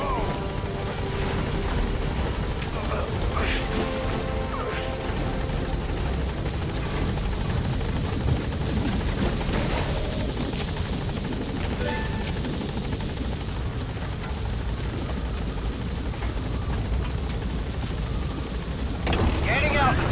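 A helicopter in the video game Metal Gear Solid V gains altitude with a continuous rotor thrum and engine whine, loud and steady throughout, while voices speak over it now and then.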